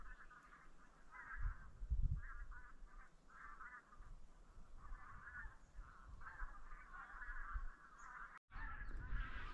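A flock of ducks on a clear spring lake, with continuous overlapping quacks and honking calls at moderate distance, steady throughout with low rumbling handling noise and a brief dropout near the end.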